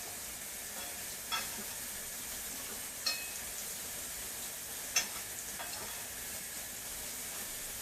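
Butter melting in a hot pan on a stovetop burner while cooking steak and shrimp, giving a steady, quiet broadband sizzle with a few faint clicks and pops over about eight seconds, with no talking.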